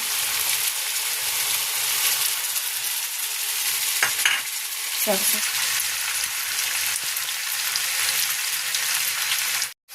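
Mixed spices fry in a pan with a continuous loud hiss and sizzle, broken by a few clinks and scrapes from stirring, and no voices are heard.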